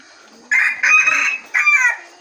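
A Philippine jungle fowl (labuyo) rooster crows nearby and loud, two strong calls with a brief break between them, and no other sound competes with it.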